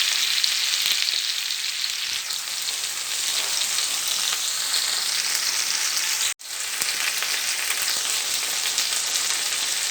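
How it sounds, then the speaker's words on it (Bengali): Pointed gourd pieces sizzle steadily in hot oil in a pan as they are turned over, a loud, close, continuous frying hiss with one brief break partway through. "পটলগুলো একটু নাড়াচাড়া করে নেব, একটু"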